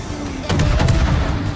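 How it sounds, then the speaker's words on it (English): A battleship in the World of Warships game fires a broadside, one loud, deep booming blast that rolls on briefly after the initial crack. "the battleship's got you in a broadside"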